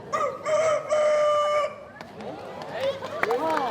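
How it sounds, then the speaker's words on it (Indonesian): A rooster crows loudly and close by, a long drawn-out call, followed by softer clucking and bird chatter in the background. "Pasti bersyukur ketika mendengar ayam jago berkokok."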